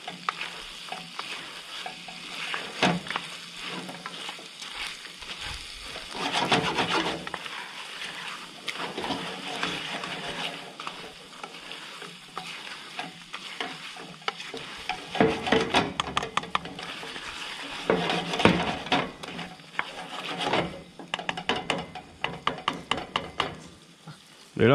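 Crayfish coated in garlic and parsley fry in a pan, a steady crackling sizzle with bursts of louder spattering and stirring clatter, close and continuous with no talk.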